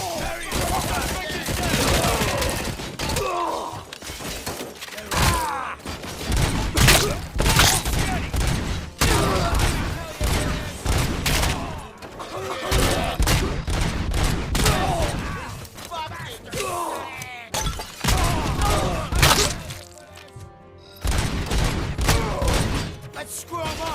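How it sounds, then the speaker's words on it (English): Dense bursts of gunfire ring out in the video game RoboCop Rogue City, sustained volleys and sharp shots with voices shouting over the combat throughout. "Keep firing!"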